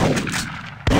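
A single loud gunshot from the Big Buck Hunter Pro arcade hunting game, a sharp blast near the end after a quieter stretch of game ambience.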